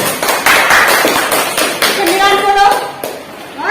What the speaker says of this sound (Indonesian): Kita beri aplaus untuk Tika.